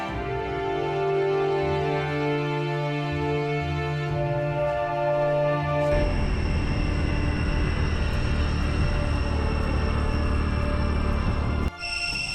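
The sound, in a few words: cicadas in the trees at Angkor Wat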